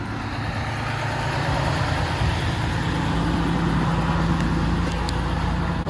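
A truck rumbles past close by with a heavy, low engine drone that stays loud and steady throughout, with no talking over it.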